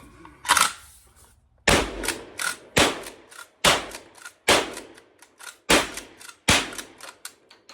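A Cimarron 1887 lever-action 12-gauge shotgun fires a rapid string of loud, sharp blasts about a second apart, each with a short decaying tail and mechanical clacks of the lever cycling between shots.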